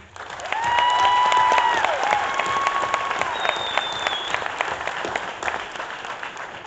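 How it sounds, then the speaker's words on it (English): Graduation audience applauding family and friends: a full crowd claps steadily and loudly, with a few whoops and cheers rising above the clapping before it gradually thins out. "join me in a round of applause for those family and friends who have supported us"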